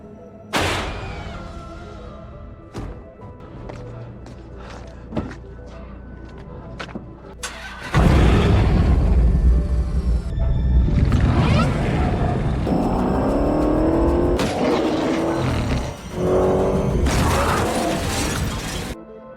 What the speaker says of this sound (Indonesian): mobil tersebut menyala sendiri dan melaju sangat kencang ke arahnya